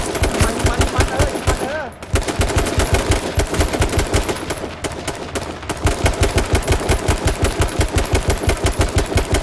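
Rapid, sustained automatic gunfire from a shooter video game rattles loud and close in long bursts with brief pauses, while a voice calls out underneath.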